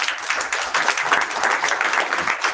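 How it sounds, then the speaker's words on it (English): Audience at an international conference on diversity, equity and inclusion breaking into applause, a dense burst of many hands clapping, close and loud, continuous for a couple of seconds. "Please give a huge applause to him."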